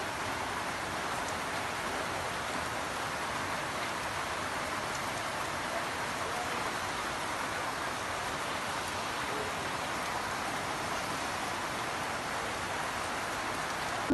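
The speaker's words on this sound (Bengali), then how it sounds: "অনেক বেশি বৃষ্টি পড়তেছে" Heavy rain falls steadily in an even, hissing wash that continues without a break, fairly soft and far off, with no voices.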